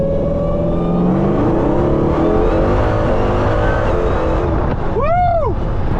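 A Dodge Magnum with a Hellcat engine roars loudly and continuously as it accelerates hard with the wheels spinning, ending in a swelling pass with a sharp pitch sweep near the end.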